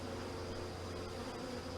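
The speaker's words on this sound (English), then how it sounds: "you've got a lot of bees, but they don't look like they're trying to swarm" Honey bees buzz at an open beehive during an inspection, a dense, steady drone of many wings heard close and continuous at low level, with no talking.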